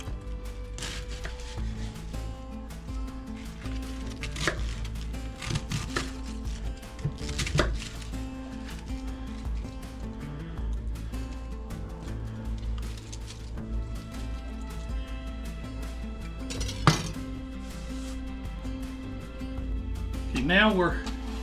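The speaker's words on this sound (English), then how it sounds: "We're going to just come in and chop these up into smaller pieces." Knife chopping vegetables by hand for homemade coleslaw on a cutting board, with scattered sharp taps and a few louder strikes through a long stretch, under steady talking.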